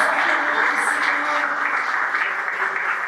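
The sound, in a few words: church congregation applauding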